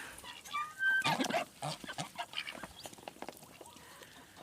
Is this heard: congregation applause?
no